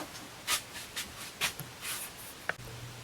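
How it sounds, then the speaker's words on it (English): Paper labels being peeled off small wooden pieces at a workbench, quiet scratchy rips and rustles in short bursts with brief pauses between. "peel all these labels off"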